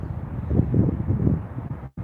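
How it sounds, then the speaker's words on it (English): Cold morning wind rumbles against the microphone outdoors, a steady low buffeting that swells and then drops out briefly near the end. "the wind's blowing"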